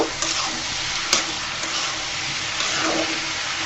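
Radish greens being stirred in a pan over heat, a continuous close sizzle with occasional scrapes and clinks of a spoon against the metal.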